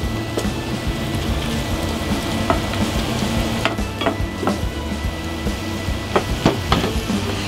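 Cheesesteak sandwich filling fries in a pan with a dense, steady sizzle and crackle, punctuated by sharper pops and spatters, close up and fairly loud with no talking.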